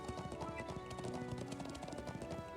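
Horse hooves clip-clop in a quick, steady rhythm in the video game Trails of Cold Steel II, set over continuous background music.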